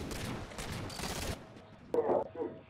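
Bursts of rapid gunfire in an online shooter video game, a dense fusillade over the first second and a half, then a sharp louder shot and scattered rounds with a voice faintly underneath.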